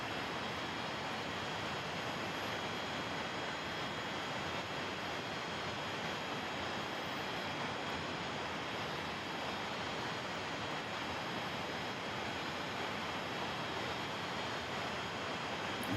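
Jet engines of an Inibuilds Do-31 idle in Microsoft Flight Simulator, a steady, dense broadband roar that holds constant and loud throughout with no talking.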